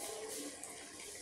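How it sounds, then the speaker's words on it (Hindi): Boiled water poured into a pan of roasted moong dal, a steady hissing pour heard close up and alone for the whole moment. "अब मैं इसमें 1 कप पानी डालती हूँ। ये मैंने बॉयल पानी डाला है।"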